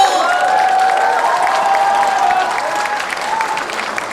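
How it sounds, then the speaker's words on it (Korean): Applause from a party convention audience fills the hall at a steady, loud level throughout, with a tonal hum or feedback line running through the crowd noise. "두 분께 위로의 박수 한번"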